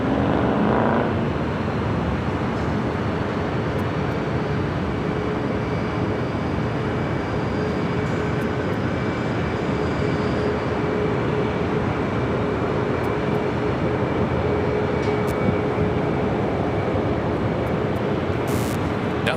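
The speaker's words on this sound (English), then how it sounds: "Another Southwest flight getting ready for takeoff on 24 left." A Southwest Airlines Boeing 737 MAX 8 prepares for takeoff on runway 24 Left at LAX, giving a loud steady jet engine roar with a constant whine that holds unbroken from a moderate distance.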